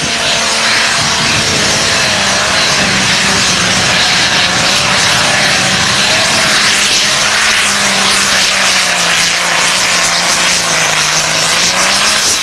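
A John Deere pro stock pulling tractor at an NTPA Grand National tractor pull roars loudly and steadily throughout, its engine note wavering slightly, with no voices.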